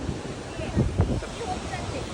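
Broadband surf-like roar of high-tide waves at Varsoli beach, Alibag, with gusty wind rumble across the microphone, a couple of louder swells rising briefly; a voice is faintly present.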